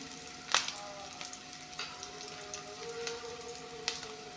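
Chopped ingredient sizzles faintly in hot oil with fried onions, a steady low crackle broken by a few sharp pops and spatters.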